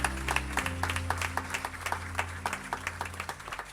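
Church congregation at a Sunday worship service clapping rhythmically in time with music, a steady pulse of many hands under a sustained organ-like tone, moderately loud and continuous.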